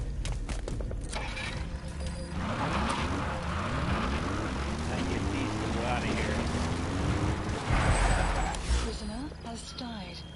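Support helicopter from Metal Gear Solid V arriving in-game, a loud continuous rotor and engine roar with rising and falling sweeps, mixed with game sound effects and voice lines.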